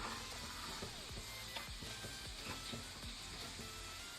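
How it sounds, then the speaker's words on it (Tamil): A spoon or spatula gently scrapes and stirs food in a hot sizzling pan, cooked restaurant-style as a winter comfort dish, with a series of soft, irregular strokes over a constant close frying hiss. "10 secondsக்கு அப்புறம் இப்படி லைட்டாக கிண்டி விட்டிங்கன்னா நல்லா ரெஸ்டாரண்ட் ஸ்டைல் மாதிரி வரும்"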